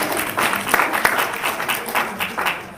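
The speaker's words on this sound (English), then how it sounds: "I hope I live up to that applause." Applause for a new committee chairperson at a Sunday morning community gathering, short and fairly loud with individual claps standing out and some murmuring voices mixed in.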